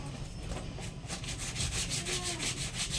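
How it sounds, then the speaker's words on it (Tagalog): A brush scrubbing laundry by hand in steady rhythmic back-and-forth strokes, close and fairly loud, speeding up into quick regular rubs. "Kuskusin ko nga ito. Mag-brush nga ako."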